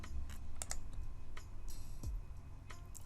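Computer keyboard typing and mouse clicks, quiet and close, in a few quick irregular bursts of taps with short pauses between.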